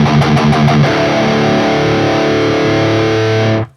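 Improvised extreme metal riff on heavily distorted electric guitar in E harmonic minor, fast picked notes opening into a sustained, ringing distorted chord that holds loud before cutting off abruptly.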